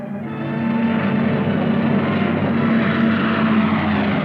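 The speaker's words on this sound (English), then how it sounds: "Cargo planes shuttled back and forth over the hump to China." A propeller cargo plane flies over during the WWII Burma campaign, delivering supplies over the hump to China. Its engines give a steady, loud drone that rises within the first half second and then holds evenly throughout, with no talk.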